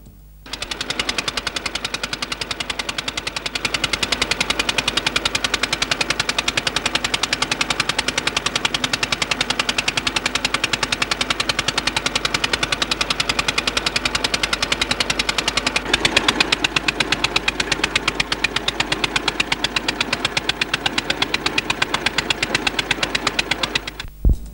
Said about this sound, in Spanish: Elegí hacer esta travesía bien a la antigua, con botes impulsados con motor Villa